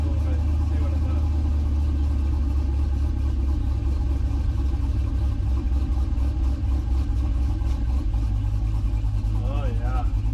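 An LS-swapped 1969 C50 truck drives slowly down the road, its engine producing a loud, steady low rumble with a constant droning hum throughout, up close.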